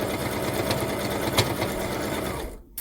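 Close, loud, steady whirring of a sewing machine stitching a micro mini quilt. The rapid needle runs without a break for nearly three seconds, then cuts off abruptly.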